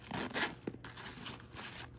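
A zipper on a handbag is pulled in a few quick rasping strokes, close and fairly quiet, with no talking.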